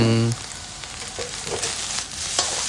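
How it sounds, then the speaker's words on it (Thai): Egg and sausage fried rice is stir-fried in a pan, giving a steady close sizzle broken by soft scraping stirs, after a brief tone at the very start. "แล้วก็ผัดผัดให้เข้ากันนะครับ"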